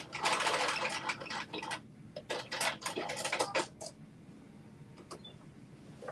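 A sewing machine stitches along a fabric edge in several short, quiet bursts of whirring, with brief pauses and a few faint clicks between runs.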